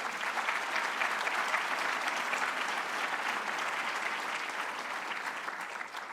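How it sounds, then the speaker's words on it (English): A crowd at a White Coat Ceremony 2024 gives a sustained round of applause, a thick, even roar of clapping that holds steady and tapers slightly at the end. "So give yourselves a round of applause."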